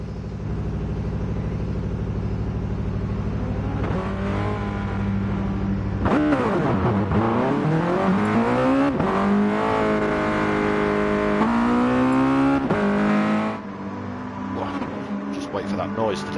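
Mazda touring cars race through a video game qualifying session at Kyoto Driving Park, with engine notes rising and falling through gear changes alongside other cars' engines. A commentator talks over the racing throughout.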